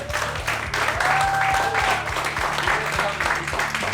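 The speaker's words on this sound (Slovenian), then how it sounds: "dajmo jim velik aplauz iz Baške grape, Matic Kokošar!" An audience at a comedy roast battle breaks into loud, sustained applause and cheering that fills the hall, while an announcer speaks over the clapping.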